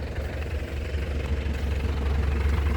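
A black 2007/08 Isuzu Panther Grand Touring idles, heard close at the exhaust as a steady, loud low rumble with a faint knocking pulse and no talking.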